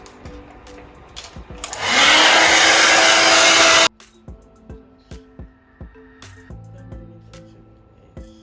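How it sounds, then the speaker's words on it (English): A loud hair dryer roars steadily for about two seconds while blow-drying a lace front wig, then cuts off, leaving soft rhythmic tapping and handling noises. "so we're gonna blow dry now"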